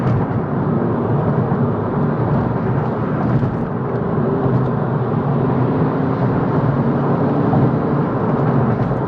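A 10th-generation Honda Civic Si engine pulling hard in fourth gear on a night drive, a steady loud broadband drone of engine and road noise from inside the cabin, unbroken for the whole stretch.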